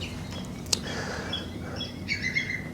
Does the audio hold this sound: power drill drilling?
no